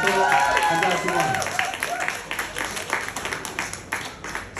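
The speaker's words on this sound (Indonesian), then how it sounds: "Satu tepukan gemuruh untuk anda semua." Audience at a song launch breaking into applause, a dense burst of clapping that starts strong and thins into scattered claps, with a voice speaking over it at the beginning.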